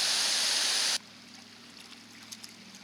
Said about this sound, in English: here's the creek crossing